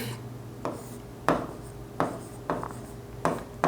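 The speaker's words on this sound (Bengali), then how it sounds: "এজন্য আমাদেরকে এখানে লিখতে হবে প্রিন্ট এফ" Printf code is handwritten, a sequence of distinct scratchy pen or marker strokes in an irregular rhythm, close and clear with no talking.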